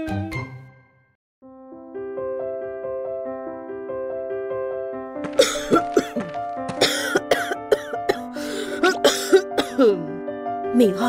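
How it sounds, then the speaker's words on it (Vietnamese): Repeated coughing from a character in an animated Vietnamese folk-tale cartoon, a series of sharp, hacking bursts over sustained background music. "Mình ho nhiều thế này, để tôi đi tìm thầy lang tới chữa cho mình nhá"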